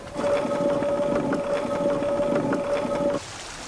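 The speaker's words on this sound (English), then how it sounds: "that water is falling maybe a metre, going under a wheel" Water falling about a metre under a mill wheel, a steady close rushing wash with a constant tonal hum that cuts off abruptly near the end, with no talk.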